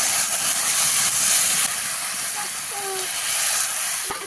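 Hot water poured into a pan of frying horse gram greens in a village kitchen, a loud continuous steaming hiss and sizzle that slowly eases, with faint clinks near the end.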